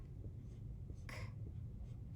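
Pencil writing a short word on paper, faint scratchy strokes close by, with one brief louder scrape in the middle and quiet pauses between letters.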